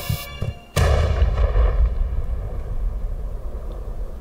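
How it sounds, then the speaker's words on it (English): A single loud gunshot rings out in the video game Night in the Woods, a sharp crack followed by a long, booming rumble that slowly fades, with a few faint clicks just before it. "Was that a gunshot?"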